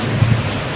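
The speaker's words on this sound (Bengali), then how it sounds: "আর এখন কিন্তু বৃষ্টি হচ্ছে প্রচুর।" Heavy rain pours during a thunderstorm, just after strong winds: a short, dense wash of rain noise over a low thundery rumble, loud and close, with no voices.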